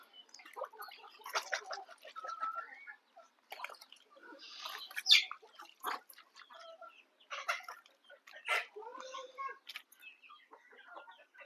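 Desi country hens on a backyard farm cluck and call in short, scattered bursts with brief pauses between, fairly close and moderately loud, with no talking.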